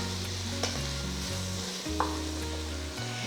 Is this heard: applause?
no